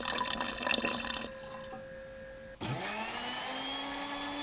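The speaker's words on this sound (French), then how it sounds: "Maintenant, je rajoute le lait chaud." Hot milk poured into a blender jug for a homemade eggnog, a liquid stream splashing loudly at first, then a quieter pause before a new continuous pour with a rising, filling tone.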